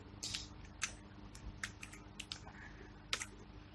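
Keystrokes on a computer keyboard as Ctrl Z is pressed repeatedly to undo steps in SolidWorks Simulation, a series of sharp, close clicks spaced irregularly over a faint background hum.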